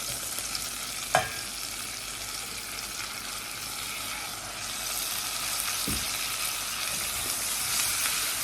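Green beans frying in butter and truffle oil in a pan give a steady, close sizzle that swells slightly over time, with a couple of brief clunks of the pan or utensil and no talking.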